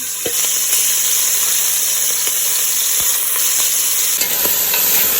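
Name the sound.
chicken feet browning, stirred in pot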